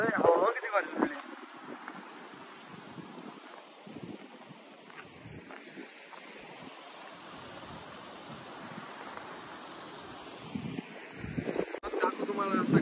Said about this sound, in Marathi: हवा किती भारी सुटली.